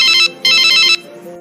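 A mobile phone ringtone for an incoming call, two loud bursts of a bright warbling electronic melody separated by a short gap, close and clear, followed by a faint tone.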